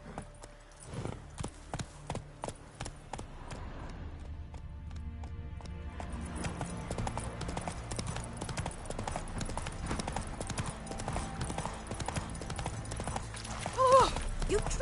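A horse gallops in the Witcher 3 video game, its rhythmic hoofbeats starting as separate clops and building into steady fast running over a continuous ambient background, with a brief snort or whinny near the end.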